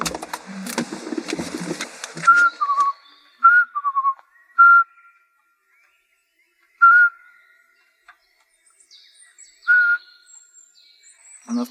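Short clear whistled notes imitating a Eurasian pygmy owl, about five separate single toots spaced a few seconds apart, following a burst of rustling and clatter, fairly near and loud against quiet.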